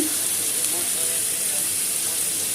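Fish fat sizzles steadily in a pan with turmeric and salt after fried onions, a constant close frying hiss throughout while someone talks over it.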